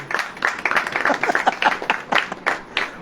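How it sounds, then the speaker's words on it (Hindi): A congregation at a Hindi church sermon claps in a lively, steady rhythm, close and full, with a voice briefly heard through the applause. "ताली वाली बजेगी कि नहीं?"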